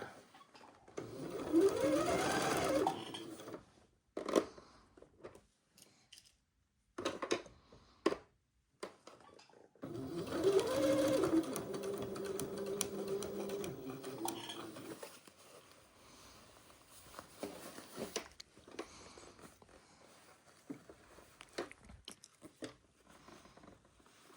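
Sewing machine stitching a suit trouser leg in bursts of rapid mechanical whirring, close and fairly quiet, separated by pauses filled with small handling noises.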